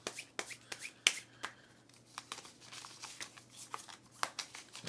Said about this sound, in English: Shuffle them together.